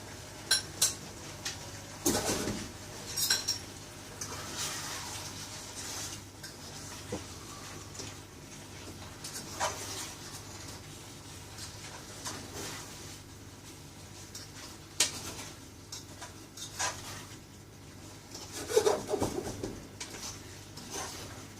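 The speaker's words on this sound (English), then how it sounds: "Just stir it up in there for a couple of minutes, let it all warm up." A spoon stirs faggots as they warm in a pan. Quiet scraping and clinking against the pan comes in irregular bursts, with a soft sizzle underneath and a few sharper knocks spread across the stretch.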